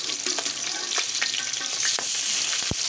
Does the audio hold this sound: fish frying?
yes